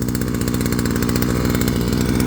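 A petrol brush cutter started for the first time runs steadily while warming up, its small two-stroke engine chugging in a fast, even, loud idle close by with no pauses.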